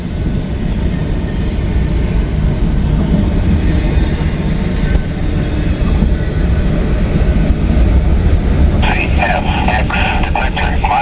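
Freight train rumbling past on a snowy track, a loud continuous low roar with rail clatter, and a radio voice crackling in near the end.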